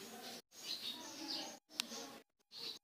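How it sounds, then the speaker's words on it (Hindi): Pet parrots kept at a house give short chirps and whistly calls in several bursts separated by brief silences, fairly close and moderately loud. "ये उसके तोते हैं, कुछ तोते रखे हुए हैं इन्होंने।"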